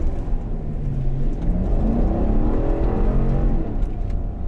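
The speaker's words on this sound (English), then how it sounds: "In 4 high, the truck is going to send all of its power to all 4 wheels, and I should get a fairly smooth takeoff with minimal slip." GMC Yukon Denali Ultimate SUV on snow tires pulling away from a standstill in 4 high, a loud close engine rising steadily in pitch through a few shifts, no talk.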